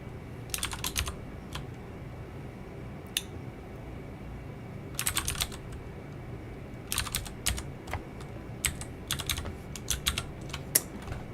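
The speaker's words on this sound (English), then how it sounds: "Don't look at my keyboard while I type. And don't listen to the clicks." Bursts of computer keyboard typing clicks come in quick clusters with pauses between them, fairly faint over a steady low hum, with no talking.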